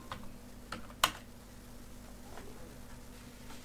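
Sparse, light keystrokes on a computer keyboard, a few soft taps with one sharper click, close and faint over a steady low hum, with no talking.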